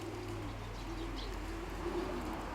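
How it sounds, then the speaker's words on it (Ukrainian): Pigeons about three years old coo in low, repeated throaty calls during their autumn pairing and nesting season, the soft rolling notes steady and close over a faint background hum, with no voices. "Гарний голубок, це по мої найкращі голубки."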